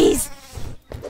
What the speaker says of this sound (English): Ah, the bees!